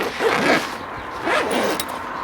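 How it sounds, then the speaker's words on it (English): A zipper is pulled shut on a bag holding resting smoked pulled pork, two loud close rasping strokes with no talk over them. "Zip the bag up."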